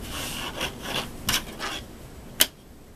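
A disappearing ink pen marks fabric for a sewn tote bag, making short scratchy strokes at an irregular pace, with one sharp tap near the end, close and quiet.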